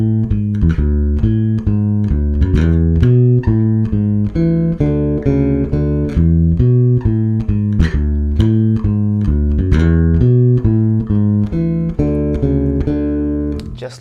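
Bass guitar tuned down a half step plays a busy, driving eighth-note line, steady and up close, alone for the whole stretch.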